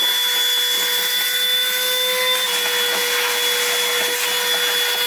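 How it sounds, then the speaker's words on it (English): A small, weak handheld vacuum cleaner runs steadily inside a car, a constant whining motor drone with a high tonal whistle throughout, fairly loud and close with no talking. "where's the vacuum? Do we have a vacuum?"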